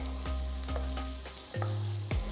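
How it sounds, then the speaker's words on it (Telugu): Garlic, ginger and onions frying in oil in a kadai, a steady sizzle broken by several distinct spatula scrapes and knocks against the pan, close and clear with no talking. "ఇందులో 3 మీడియం సైజ్ ఉల్లిపాయలని కూడా వేసి అంతా ఒక్కసారి మిక్స్ చేసి వేయించాలి"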